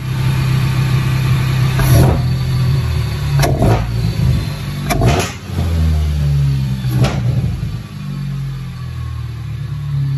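A 2.4 MultiAir engine fitted with an Injen cold air intake, in a Chrysler 200 or Dodge Dart, idles loudly and close, then is blipped in several sharp revs with the intake's roar rising and falling.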